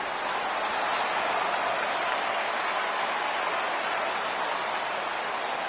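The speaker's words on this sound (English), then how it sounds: "he receives a nice ovation from this home crowd" Home crowd at a Minnesota Twins baseball game applauding as the starting pitcher leaves the mound, a steady, dense wash of clapping that holds evenly throughout with no voices on top.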